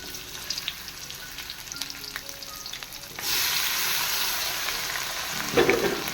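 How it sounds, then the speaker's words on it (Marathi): Dried Bombay duck (bombil) fries in hot oil for a Goan-style pickle, a quiet crackle at first that swells into a loud, steady sizzle, with a brief scrape of stirring near the end. "आता हांव ते बोंबील फ्राय करता"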